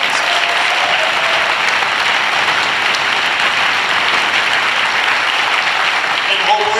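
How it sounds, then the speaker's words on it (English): A rally crowd applauds in a loud, sustained wash of clapping that stays dense and even from start to finish, close and full. "how about a round of applause for all of these?"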